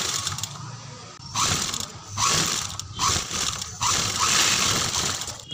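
An overlock machine runs in bursts while stitching the side seam of kurti fabric, a close mechanical whirring that starts and stops about four times with short pauses between runs.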